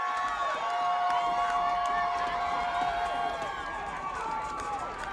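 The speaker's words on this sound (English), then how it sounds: "seems like the crowd's finally getting into it" A football game crowd cheers in a dense, continuous roar of shouts and whoops, loud and sustained across the whole stretch.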